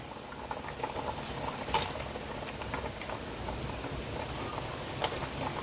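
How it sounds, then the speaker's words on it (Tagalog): Corn and okra soup (suam na mais) bubbling at a steady boil in a pot, a continuous close, moderately loud burble with scattered pops and a couple of sharper splashes, no voices. "So, kumukulo na siya."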